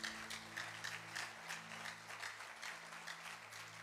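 Congregation applauding during a church service, a steady wash of many hands clapping at an even rhythm throughout, with a low sustained tone underneath.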